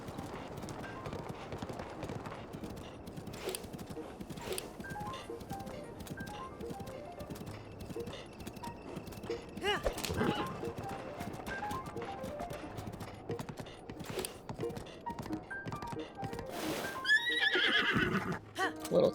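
A horse runs down a steep mountain in Breath of the Wild, its hooves clopping steadily and quickly throughout, with a neigh and rising commotion toward the end and no talking over it.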